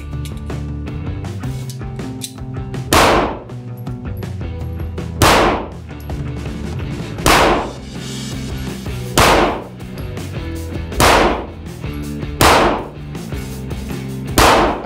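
Gunshots from a Polymer80 pistol at an indoor shooting range, seven loud sharp reports spaced a couple of seconds apart, each ringing out over a constant background hum.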